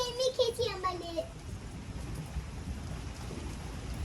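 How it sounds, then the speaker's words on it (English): Rain falling on a front porch with a low rumble of thunder during a rainstorm, steady patter throughout, while a voice talks briefly at the start. "Oh, it's thunder."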